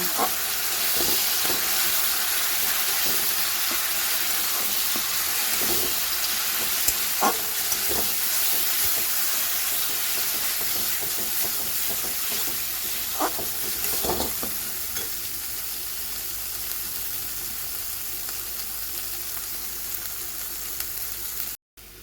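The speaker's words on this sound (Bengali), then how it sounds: "এরপর যেটা মশলাটা ভেজে রেখেছিলাম পেঁয়াজ আদা রসুন, সেটা দিয়ে দেবো। ভালো করে মিশিয়ে নেব।" Paneer frying with a masala of onion, ginger and garlic stirred in: loud continuous sizzle and hiss with occasional spatula scrapes, close and steady throughout.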